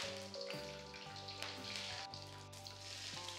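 Mustard seeds and curry leaves frying in hot coconut oil, a steady close sizzle with faint crackling pops running throughout, no voices.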